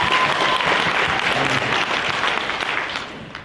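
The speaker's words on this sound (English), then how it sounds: "clap it up for Vanessa" An audience at a real estate business marketing event claps for Vanessa, a dense, steady burst of applause that stays loud and then fades slightly toward the end.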